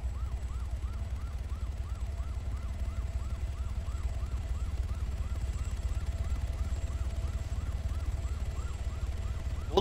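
A police car siren wails in a steady repeating up-and-down cycle during an Arma 3 chase, sounding moderately distant over a constant low engine or rotor rumble.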